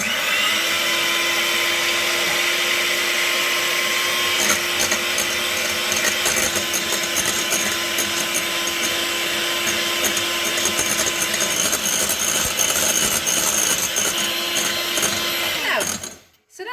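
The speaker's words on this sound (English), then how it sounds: "we have the Baileys and egg, and we're going to beat this till it's doubled in size" An electric mixer beats Baileys and egg in a bowl with a steady, loud, continuous whirring drone that runs unbroken for the whole stretch and then cuts off abruptly at the end.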